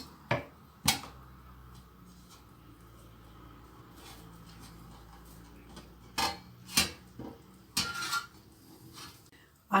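Pots and cutlery handled in a home kitchen while cabbage rolls made from pickled cabbage are moved from one pot to another: quiet room tone broken by several sharp clinks and knocks of metal, a few clustered near the end.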